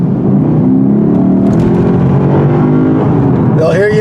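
2023 Lexus IS 500 F-Sport V8 in Sport Plus mode, its exhaust giving a loud, steady rumbling drone throughout, with a whirring rise near the end.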